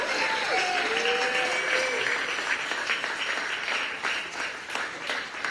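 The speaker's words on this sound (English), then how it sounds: "A round of applause for Vinnie Morrow." Crowd applause fills an election night victory gathering, a dense, steady wash of clapping that carries on throughout, with a voice briefly rising over the noise early on.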